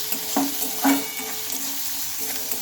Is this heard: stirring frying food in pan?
yes